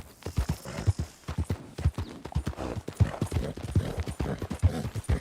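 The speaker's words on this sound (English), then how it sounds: "Gotta be careful driving a horse." Video game horse hooves clip-clop in a steady, brisk rhythm, close and prominent, with a faint background hiss.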